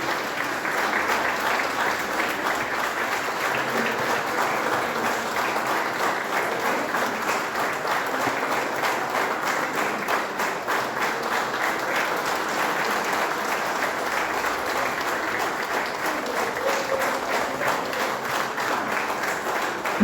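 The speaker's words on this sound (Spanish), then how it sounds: "Vamos a regalarle un minuto de aplausos" A gathered crowd gives a sustained minute of applause in memory of Lucelly García, a dense, even roar of many hands clapping that holds at a loud, steady level throughout.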